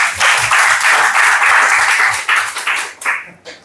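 A congregation bursts into loud, dense applause during a church service, sustained clapping from many hands that thins out and fades over the last second.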